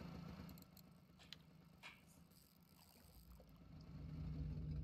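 A boat motor runs in the Russian Fishing 4 game on the Lower Tunguska, a faint, steady low hum that swells slightly near the end, with no talking.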